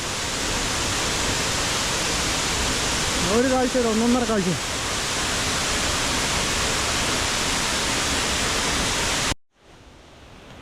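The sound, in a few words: water splashing down a waterfall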